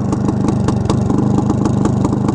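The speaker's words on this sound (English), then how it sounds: "And listen to the exhaust on this thing." A 1975 Suzuki TS400 big-bore two-stroke motorcycle idles close by with a steady, loud exhaust burble, a rapid pulsing beat holding even throughout with no voices.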